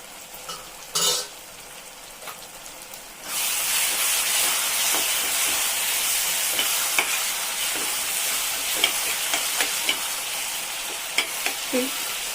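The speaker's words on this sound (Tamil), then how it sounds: "வெங்காயம் பூண்டு எல்லாம் நல்லா வதங்கிடுச்சு." Onions and garlic sauté in a pan for a spicy garlic curry seasoned with asafoetida and turmeric: after a quiet start with a brief clatter, a loud, steady sizzle takes over, dotted with small pops and stirring scrapes.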